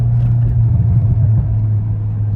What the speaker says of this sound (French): c'est sympa le bruit de la downpipe